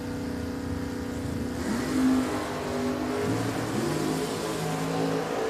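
A 1978 Plymouth Volare drag car at Richmond Dragway runs down the strip, its engine droning at a moderate distance with a rise in pitch midway, steady and fairly faint, with no talking.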